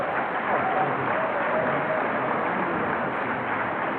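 An audience claps steadily for the registrar at the University of Benin Faculty of Pharmacy 45th oath-taking and induction ceremony, a dense, even round of applause that holds for the whole stretch.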